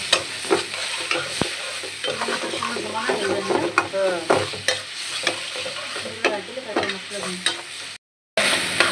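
Prawn paste frying in a pan for a Bangladeshi pangas fish and prawn curry, a steady close sizzle with scraping stirring strokes throughout, briefly cutting out near the end.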